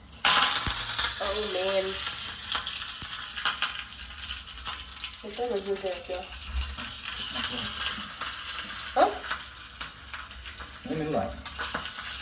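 Mustard seeds and spices tempering in hot oil for dhokla, a loud continuous crackling sizzle with sharp pops throughout, while someone speaks at intervals over it.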